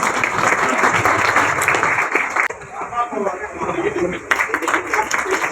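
Audience applause at a ceremony honoring 10th and 12th grade students: a loud, sustained crowd clapping for about two and a half seconds, then breaking off as someone speaks over fainter claps that pick up again near the end.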